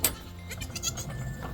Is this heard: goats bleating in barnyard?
yes